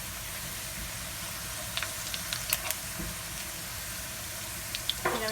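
Onions browned in a pan with cumin seeds added, giving a steady, even sizzle with a few soft crackles and pops, close by and moderately quiet throughout.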